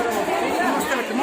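A packed crowd gathered for Holi puja fills the air with dense, close, overlapping chatter, with a voice speaking over it.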